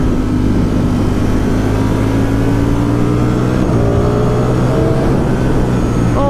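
A 2020 Ducati Streetfighter V4 S motorcycle accelerates hard on the road, its engine note climbing steadily in pitch past 7,000 RPM, loud and continuous under rushing wind with a brief dip as it shifts.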